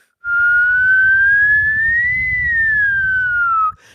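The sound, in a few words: loud human whistling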